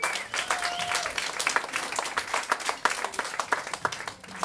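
A sellout audience gives a big round of applause, dense clapping from many hands filling the space, with a few faint voices mixed in.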